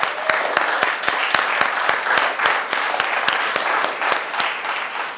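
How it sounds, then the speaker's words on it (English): Applause from an audience in a gym in La Perla, Puerto Rico, with sharp, evenly spaced claps standing out over a steady wash of clapping that lasts throughout. "Let me get a round of applause for La Perla Puerto Rico."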